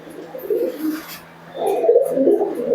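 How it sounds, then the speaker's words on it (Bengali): Giribaj pigeons and chicks give low, throaty coos close by in two bursts separated by a short lull. "কবুতরগুলো বাচ্চাগুলো সব একসঙ্গে তোমাদেরকে দেখাচ্ছি"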